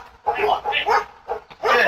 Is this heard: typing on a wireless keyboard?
no